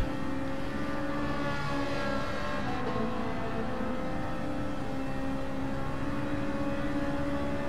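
A racing car engine in Gran Turismo 7 drones steadily throughout, a continuous buzzing roar with no talking over it.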